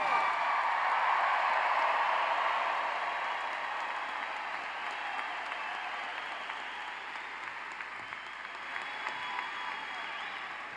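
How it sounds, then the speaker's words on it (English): Loud, sustained round of applause from a large audience at Clemson's spring undergraduate graduation ceremony, a broad wash of clapping that starts strong and gradually softens over about ten seconds. "How about another really loud round of applause?"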